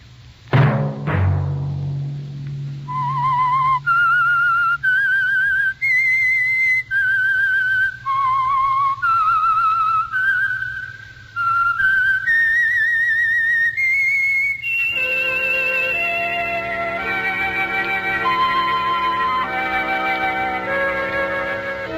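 A clear, loud whistled melody of sustained, sliding notes, followed by a brighter, more layered whistled phrase; the signature whistle theme of the 1950 radio drama The Whistler, sponsored by Signal Oil; no speech.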